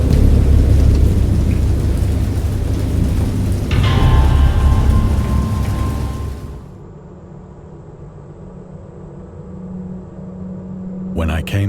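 Heavy rain pours and a deep roll of thunder rumbles in the stormy game world of Dagon, loud and close, then the downpour drops to a softer steady patter near the end.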